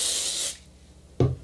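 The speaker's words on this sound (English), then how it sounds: "So I'm going to spray it" A steady hiss of hairspray sprayed on hair lasts about half a second, then fades to quiet before a short thump near the end.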